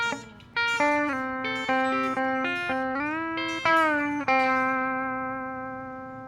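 An electric guitar picks a twangy country blues phrase, played low near the nut, with slides and bends, finishing on a sustained note that slowly rings out with a touch of echo.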